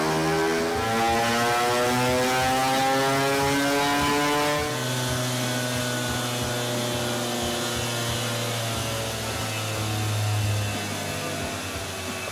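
Vespa smallframe scooter engine, freshly tuned with a richer main jet, runs steadily up close with a strong harmonic buzz; the pitch settles slightly lower about halfway through and holds a smooth, even drone with no voices.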